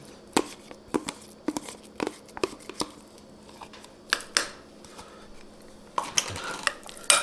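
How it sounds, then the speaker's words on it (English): Keto meat lasagna ingredients are mixed in a pan with a utensil, giving irregular close scrapes, clinks and knocks against the pan at a steady working pace, with a busier cluster near the end and no voices. "we're going to mix this in"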